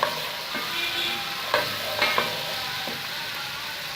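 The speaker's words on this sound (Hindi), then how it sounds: "तकरीबन 2 से 3 मिनट लहसुन अदरक आपको फ्राई करना है" Garlic and ginger fry in hot oil for chana biryani, giving a soft, continuous sizzle with a few scraping stirs of a spoon against the pan.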